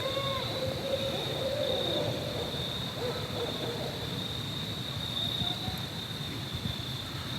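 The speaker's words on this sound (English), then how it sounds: "I think they're owls." Owls hoot softly in the distance, a few low calls early on, over a constant high insect buzz in a quiet outdoor setting at Congaree National Park.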